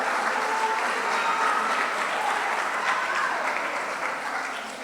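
A congregation applauding during a church service, dense sustained clapping from many hands that stays loud and even before easing slightly at the end.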